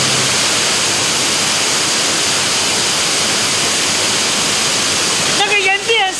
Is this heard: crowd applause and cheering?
no